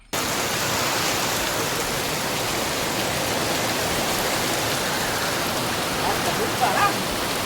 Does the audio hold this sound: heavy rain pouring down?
yes